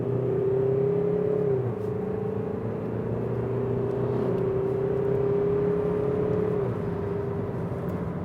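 A Mazda3 car engine drones loudly and steadily, its pitch climbing and shifting as it pulls hard under heavy throttle, with no talking.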